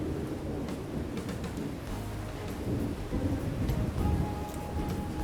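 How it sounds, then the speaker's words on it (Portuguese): Thunder rumbles through steady rain heard from a kitchen during a storm, a low rolling boom that swells toward the end under a constant patter of rain, fairly faint with no voices. "Vocês devem estar ouvindo aí trovões, relâmpagos, chuva."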